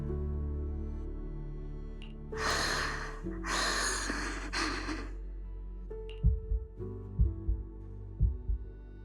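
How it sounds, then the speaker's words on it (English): Heavy breaths and gasps give way to a series of deep, thumping heartbeats pulsing in pairs, a racing heartbeat effect in the video game Zenless Zone Zero, close and prominent with no speech over it. "Then what about my racing heartbeat?"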